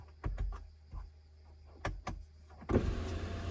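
A car's electric window motor whirs briefly several times, then a longer closing run ends with a firm thud as the glass seats, close and clear with no talk, inside a Tata Harrier on a jungle drive.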